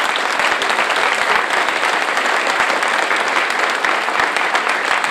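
An audience claps for a retiring local shopkeeper at a town medal ceremony during New Year greetings in Tarnos, a dense, even burst of many hands close by that holds steady throughout.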